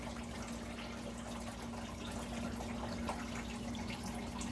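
Coolant drains out of a Ford F150 EcoBoost engine after the water pump has been pulled, a steady trickling splash of liquid running continuously, close and even, with no talk.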